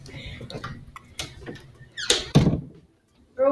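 A door is pushed shut inside a house, giving a solid thunk among scattered knocks and handling noises, with voices talking nearby.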